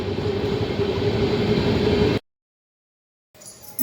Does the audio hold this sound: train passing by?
yes